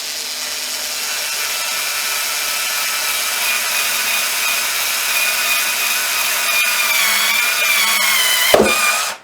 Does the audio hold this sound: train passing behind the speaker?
no